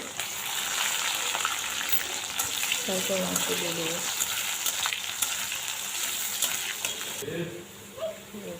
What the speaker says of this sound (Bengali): এখন পেঁয়াজটা একটু ভাজা হবে